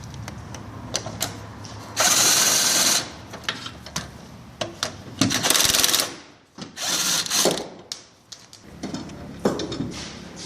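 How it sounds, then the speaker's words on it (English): Power tool backing out 14mm bolts on a car's rear trailing arm and upper camber arm: loud whirring bursts of impact driving, separated by quieter clicks and ratcheting, close by. "All that you need to do now is remove these two 14mm bolts for the upper camber arm"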